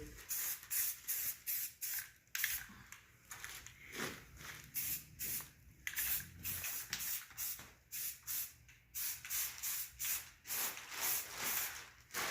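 Short bursts of spray paint hiss in a light coat of primer across a car's front lip, in a steady rhythm of pulses with brief pauses between them. Nobody speaks.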